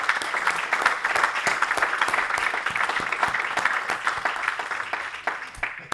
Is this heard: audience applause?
yes